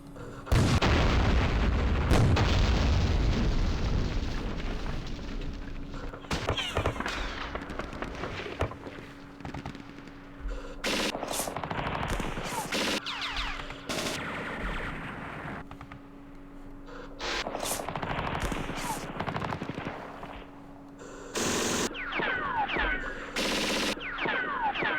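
Artillery and gunfire in the Campaign Series East Front war game, with repeated booms and bursts of shots scattered across a busy battle soundscape, loud and close at times.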